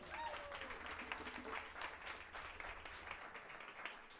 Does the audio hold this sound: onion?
no